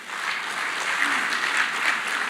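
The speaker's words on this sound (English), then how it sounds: "A round of applause, all of them." A brief, steady burst of audience applause at a matric top achievers award ceremony, moderately loud, with no talk over it.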